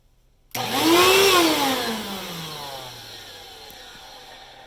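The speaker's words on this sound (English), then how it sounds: "We're going to see if the vacuum cleaner turns on." A scrapped vacuum cleaner switches on abruptly, its motor whine rising in pitch within a second then easing into a loud steady drone that slowly settles.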